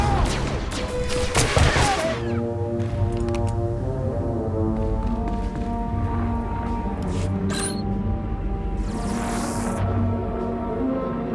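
Rapid bursts of blaster and gunfire in Star Wars: The Old Republic, a dense volley up front that settles into a steady, droning battle bed with occasional sharper shots, loud and continuous with no talk.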